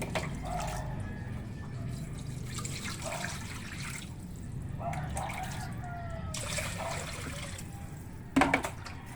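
Tap water running and splashing while dishes are washed up, a steady trickle with clinks and occasional louder gushes, heard near and alone with faint background.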